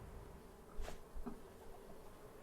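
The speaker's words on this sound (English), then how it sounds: "sometimes the bees that are being a giant pain in my bottom" Bees in the Raft survival game buzz in a soft, steady drone, with two louder close passes swelling briefly before fading back into the hum.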